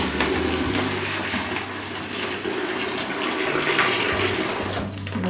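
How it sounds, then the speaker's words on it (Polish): Hot water poured in a steady, continuous rushing stream while preparing food for a pet, close and fairly loud with no talking. "i gorącą wodą możemy go zalać"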